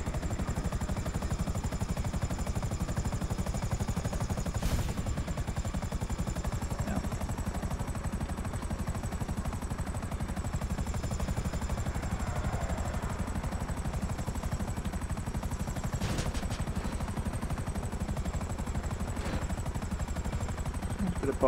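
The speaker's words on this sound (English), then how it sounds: "This helicopter sounds like it's going to give out in a second." A helicopter flying in a video game gives a steady, continuous rotor-and-engine drone at moderate level, with a few faint clicks and sharp bits scattered through it.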